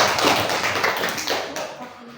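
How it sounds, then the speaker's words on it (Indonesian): A classroom applauds the last group after its presentation: brief, scattered clapping close by that tapers off within a couple of seconds, with a voice mixed in. "Tepuk tangan untuk kelompok terakhir."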